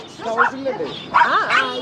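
Puppies in an aquarium pet shop in Rajahmundry let out a few close, high-pitched yips and whimpering barks in two short bursts.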